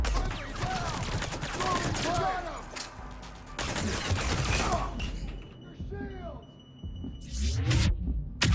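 Bursts of sci-fi gunfire in Mass Effect 3 come in loud rapid volleys mixed with whooshing, sweeping weapon effects, separated by brief quieter gaps.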